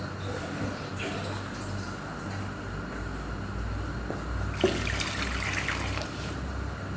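Water runs steadily from a kitchen tap into a cooking pot, a continuous splashing hiss heard at moderate distance with a faint clink partway through.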